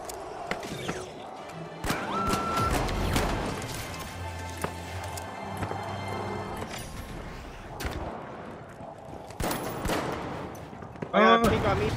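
Rapid R.357 revolver gunfire in The Finals, sharp cracks scattered across a chaotic match with explosions, crashes and other weapons firing, while players talk over the action.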